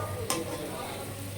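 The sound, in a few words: palm fruit fritters frying in oil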